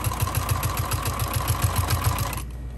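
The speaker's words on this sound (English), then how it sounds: "Sorry about my air conditioner." A loud air conditioner runs in a room where a bag is being sewn, giving a steady mechanical hum with a faint rhythmic pulsing throughout, dropping away near the end.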